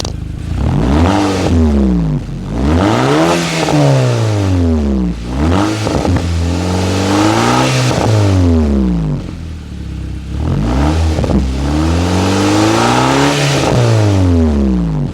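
A loud car engine with modified intake and exhaust close by, repeatedly revving up and dropping back, with rising and falling pitch sweeps and a rough idle between blips.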